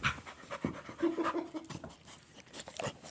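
A tired but playful house dog pants rapidly and audibly close by, quick rhythmic breaths with a brief whimpery tone mixed in, heard on its own without talk.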